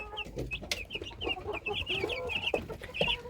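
Chicks and broiler chickens in a poultry yard cheep in high, continuous peeps over low, soft clucking. The flock sounds close and busy.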